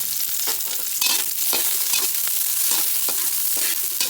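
Ginger, onion and garlic sauté in a pan until brown for an Ilocano ginataang gabi, giving a loud, steady close-up sizzle broken by repeated stirring scrapes.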